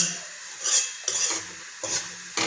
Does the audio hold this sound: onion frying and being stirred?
yes